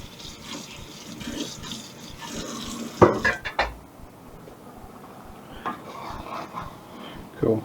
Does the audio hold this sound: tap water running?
yes